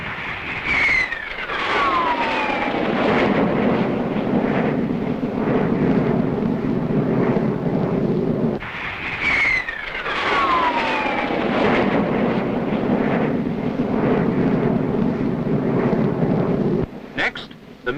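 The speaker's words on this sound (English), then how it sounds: "Its two Metropolitan Vickers axial flow turbines give it great speed and maneuverability." Saunders-Roe jet flying boat fighter powered by twin Metropolitan-Vickers axial-flow turbines passing overhead, a loud roaring whoosh with descending whine heard in two successive passes, steady and close, with no talk.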